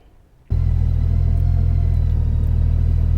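A Honda Goldwing motorcycle rides along with steady engine rumble and wind noise, starting abruptly after a brief quiet moment and then holding loud and constant.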